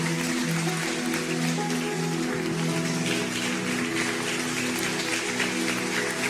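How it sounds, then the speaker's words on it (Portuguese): A church congregation applauding at a Sunday morning service, a steady dense wash of clapping that runs evenly throughout without pause. "fica de pé e aplauda ao Senhor"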